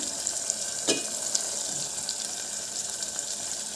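Onion pieces and green chillies frying in oil in a pan, a steady close hiss of sizzling throughout, with a brief louder crackle near the start.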